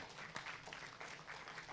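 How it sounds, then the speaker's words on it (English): Audience applause at an international talk event: a brief, faint wash of steady clapping from a crowd, heard at a distance. "Please give a big round of applause."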